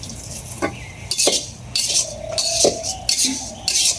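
Thin flattened rice (chira) is dry-roasted in a pan and stirred briskly. Loud, close metal scrapes and clinks repeat in uneven bursts over a faint background hiss, with no talking.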